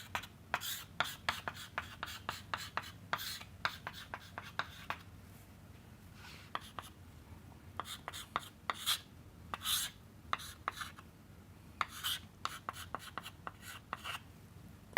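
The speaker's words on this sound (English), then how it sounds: "So, let me write it down." Handwriting on a board or paper during a lecture, a long run of quick scratchy strokes and taps in irregular bursts with brief pauses, close and quiet.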